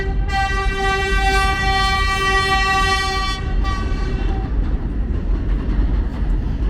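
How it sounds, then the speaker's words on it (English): A vintage mixed train passes in the South Bronx near River Avenue and Yankee Stadium, sounding a long, loud horn blast for about four seconds before the steady rumble of rolling cars carries on alone. "That's that mixed train we saw earlier."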